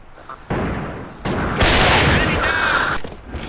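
Bursts of gunfire in the mobile battle royale game Free Fire, loud repeated shots and booming blasts crowding the middle of the clip, beginning after a short quiet lead-in and easing off near the end.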